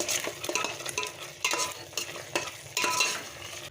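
Ash gourd halwa with raisins and cardamom being stirred in a pan, soft rhythmic scraping and light sizzling strokes repeating steadily, close and quiet with no voices.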